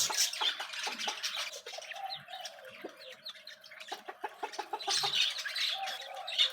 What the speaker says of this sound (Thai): มันจะมีไก่โปแลนด์ กับไก่ ดำๆนี่ไก่บามาบามายักษ์